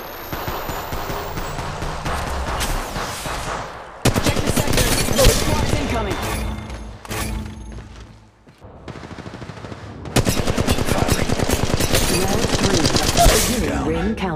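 Gunfire in the mobile battle royale game Apex Legends Mobile, rapid bursts of automatic weapon fire in long sustained volleys broken by brief pauses, loud and close.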